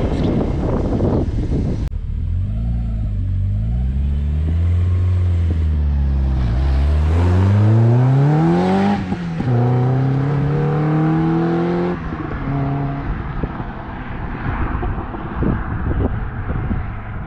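A Caterham 7 engine drones loudly and close, revving up through climbing gears with rising and falling pitch, wind rushing over the microphone throughout.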